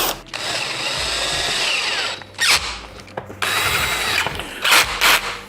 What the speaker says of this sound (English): if you're using a power tool, make sure that you adjust the torque so you don't over tighten these